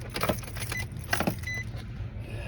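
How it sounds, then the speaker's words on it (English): A car ignition key is turned on, with a close jingle of keys and faint clicks over a low steady hum inside the vehicle, and no talk. "Please turn the key off for 10 seconds, then turn the key on."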